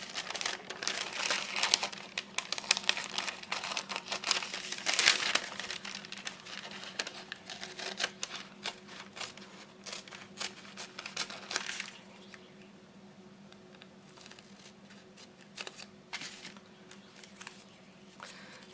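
Paper backing peeling off a strip of washi tape layered on a planner page, a close dry crinkling and tearing rustle that is loudest in the first seconds, then thins out to faint handling noise.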